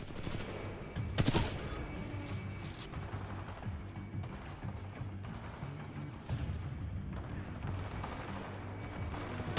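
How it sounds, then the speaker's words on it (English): Mortar specters firing on a harvester in a sci-fi shooter game: distant booming shots and crackling fire, with a couple of sharper blasts over a steady low battle rumble. "Mortar specters are still hitting the harvester."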